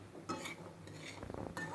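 A spoon stirs a chaat mixture in a bowl, a quiet run of light clinks and scrapes with a short rattling burst near the end.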